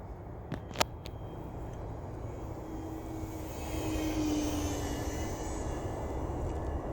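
Electric motors of a remote-control VTOL aircraft on a test flight, a steady buzzing drone that swells slightly louder midway, with a couple of brief clicks near the start.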